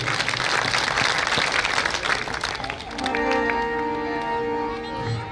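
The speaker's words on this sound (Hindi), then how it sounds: "एक बार आपके लिए भी जोरदार ताली।" Loud, dense applause from an audience at a devotional bhajan gathering, a sustained roar of clapping for about three seconds before it fades out beneath a sustained musical tone.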